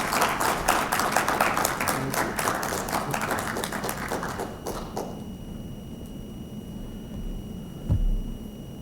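Audience at a lecture applauding a speaker: dense, steady clapping that fills the first five seconds and then thins out to a few scattered claps and room noise.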